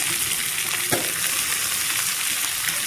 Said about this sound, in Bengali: কাঁচা লঙ্কা চার পাঁচটা কেটে ভেজে নিব